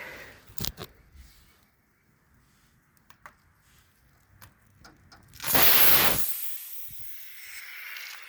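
A 2001 Snapper SR1230 riding mower tire stabbed with a knife lets out a loud burst of rushing air for under a second, preceded by scattered small clicks and taps in a quiet setting.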